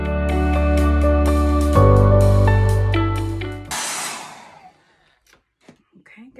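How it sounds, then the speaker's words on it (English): A hair dryer blows close and loud, drying black paint on a painted surface, its whining motor tone shifting pitch partway through before switching off, followed by faint handling noises. "I'm gonna use my hair dryer and dry it really well"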